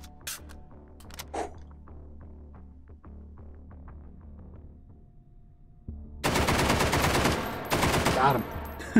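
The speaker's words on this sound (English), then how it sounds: "This is so fun shooting one-handed, though." Loud bursts of rapid gunfire from a gun fired one-handed in the VR shooter Hot Dogs, Horseshoes & Hand Grenades, following several seconds of quieter clicks and handling noises, with two dense volleys near the end.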